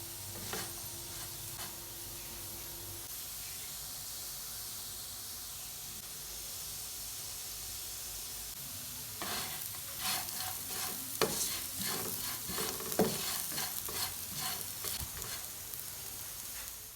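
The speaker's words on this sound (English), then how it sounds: "Cook well till potato turns crispy." Potatoes fry in a pan until crisp, with a low, steady sizzle throughout. Partway through, a run of louder scraping and stirring strokes begins.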